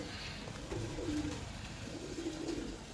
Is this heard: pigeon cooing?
yes